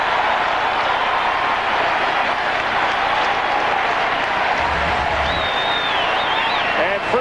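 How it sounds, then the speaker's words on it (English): Fans at Fenway Park in Boston erupt in sustained applause and cheering after a stolen base, a thick, even roar of the ballpark crowd, with a voice talking over it. "first time the Fenway fans have had something really to cheer about"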